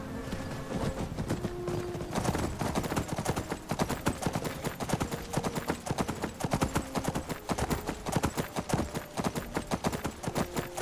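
Horse hooves clip-clop at a fast galloping rhythm in the Skyrim video game, loud and close, a dense run of sharp repeated thuds with an occasional neigh and no voices over it.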